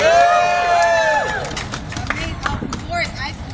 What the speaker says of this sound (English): let's give a round of applause for Mr.